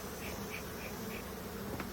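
Honeybees buzz steadily from an opened backyard hive in North Port, a dense close hum with individual bees passing near.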